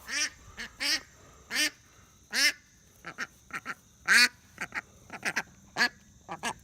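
Farm ducks called over for duck chow quack repeatedly outdoors on a pasture, a dozen or more nasal calls in uneven bursts, near and moderately loud, with no talking.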